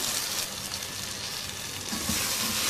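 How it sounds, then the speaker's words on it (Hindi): Vegetables sizzling in a pan while frying for a vegetable pulao, a continuous loud, hissing crackle that swells slightly toward the end, with no voice over it. "अच्छी तरह से फ्राई करेंगे 3-4 मिनट"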